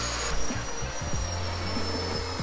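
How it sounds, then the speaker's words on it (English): Drill boring through steel beams for a cable route in a barn conversion, a loud, steady grinding whine with scraping, uneven shifts in load, close and continuous. "is just drilling out the steels for our main cable route"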